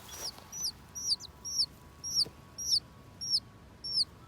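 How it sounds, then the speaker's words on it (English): Little bantam chickens making a run of repeated high, rising chirpy clucks, about eight evenly spaced calls at a steady rhythm, close by against a quiet outdoor background. "We also got our little bantams hanging out."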